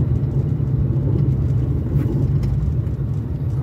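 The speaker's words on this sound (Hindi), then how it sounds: "आगे वो ट्रैफिक जाम है सामने की तरफ।" Steady low engine rumble and road noise heard from inside a car in a Navi Mumbai traffic jam, continuous and fairly loud with no talking.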